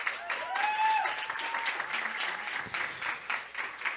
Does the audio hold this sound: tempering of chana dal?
no